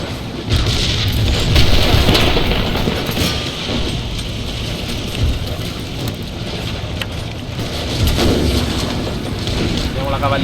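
Cannons boom in a video game battle, repeated heavy low blasts over a dense roar of battlefield noise.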